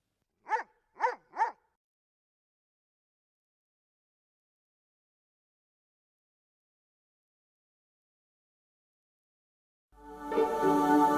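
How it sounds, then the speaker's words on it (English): A dog gives three quick, sharp barks in a row, close and clear, followed by silence and then a burst of other noise at the end. ""We'll go tomorrow," Dorothy said, and Toto barked loudly."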